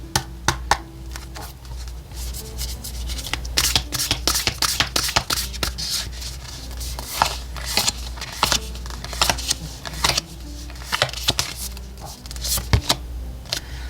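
Oracle cards being shuffled by hand for a tarot reading, a close, steady run of quick crisp riffling clicks and flutters lasting throughout, with no voice.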